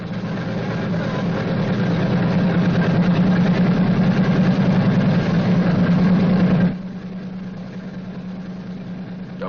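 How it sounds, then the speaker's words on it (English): A Boeing B-29 Superfortress aircraft engine runs steadily, loud and close with a strong low throb and rough mechanical texture, then drops abruptly to a quieter idle-like hum near the end. "continue to prime intermittently until the engine is running smoothly"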